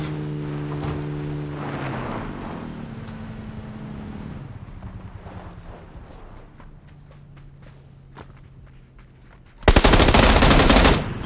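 Gunfire in PUBG on the Miramar desert map, faint scattered distant shots over engine drone, then a sudden loud, sustained burst of close automatic fire near the end.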